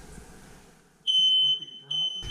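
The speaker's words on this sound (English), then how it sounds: "We have some liquid smoke here that we test all the smoke detectors." A shrill, high-pitched smoke alarm beeps in two sustained bursts, loud and close, with faint room noise underneath, triggered by test smoke during a building inspection.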